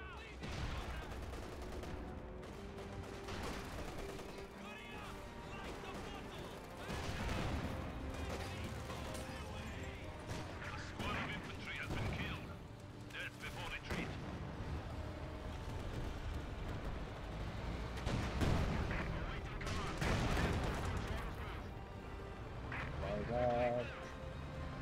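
A video game battle with tanks fills the scene with dense gunfire, machine-gun bursts and artillery blasts, rumbling continuously at moderate level while a player talks over it.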